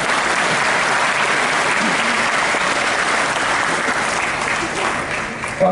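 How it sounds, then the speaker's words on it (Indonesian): Sustained applause from a large audience at a party leadership event, steady broadband clapping filling the whole stretch and easing slightly near the end, with no voices over it. "Tepuk tangan dulu dong."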